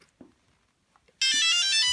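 After a second of faint clicks and near silence, a bright electronic startup tone sequence from a drone with a Naza M V2 controller starts abruptly and plays loudly through the rest of the clip.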